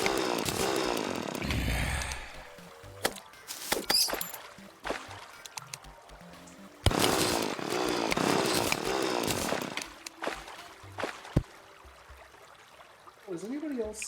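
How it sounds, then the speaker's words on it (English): A drill runs in the video game Terraria, giving a buzzing, chainsaw-like mechanical whine that surges and cuts out in bursts, mixed under players talking. "Also, the drill's kind of noisy."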